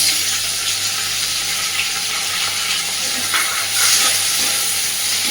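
Small shrimp sizzle with onion in a frying pan as they are stirred, giving a steady close hiss with a few brief louder spits.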